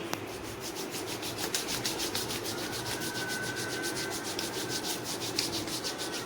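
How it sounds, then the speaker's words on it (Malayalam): Body scrub rubbed firmly over skin, a steady close-up rasping and rubbing that carries on in a fast, even rhythm with no break and no voices. "അതിനുശേഷം ഈ പറഞ്ഞ പോലെ തന്നെ നല്ല രീതിയിൽ സ്ക്രബ് ചെയ്ത് കൊടുക്കാം"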